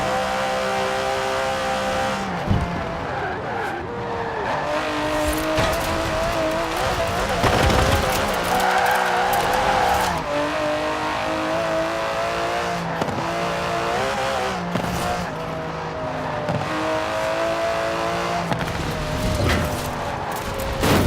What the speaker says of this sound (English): The DB11 is not the fastest car in the world, but then it's not trying to be.